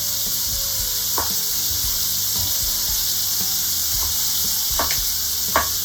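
Ripe mango pieces and pork chops sizzle steadily in a pan, a constant hiss with a few brief scraping stirs, close and moderately loud, with no talking.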